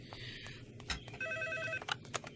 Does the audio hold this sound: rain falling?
no